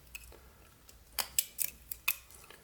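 A knife whittles wood while carving a small Santa figure, working up to a stop cut and leaving a scattering of sharp, close, short scraping clicks at irregular intervals over quiet background.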